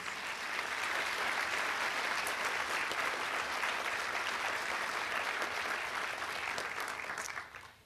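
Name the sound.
audience applause for new nurses at pinning ceremony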